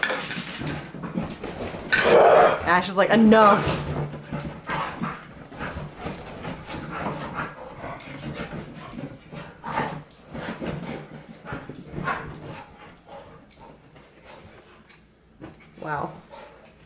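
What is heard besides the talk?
puppy whimpering and freaking out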